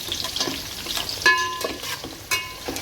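Coriander vadas cooking in a pan produce a close sizzle broken by sharp metallic scrapes and clinks of a utensil against the pan, with no one talking.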